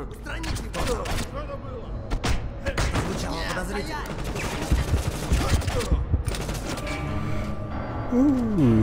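Dense automatic and burst gunfire from Counterspy, a PS4 stealth game, crackling steadily throughout with heavy booming thuds, while a player talks over the shooting.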